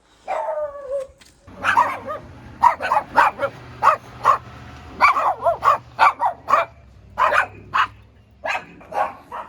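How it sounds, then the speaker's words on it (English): Several dogs bark loudly and repeatedly in quick, uneven bursts, close by an abandoned 1980s limousine, with a brief whine at the start. "So excuse all the dog barks."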